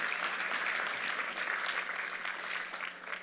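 A gala audience gives sustained applause for Enes Kanter Freedom, dense clapping from many hands that holds steady, then eases slightly near the end, heard from some distance in a large hall.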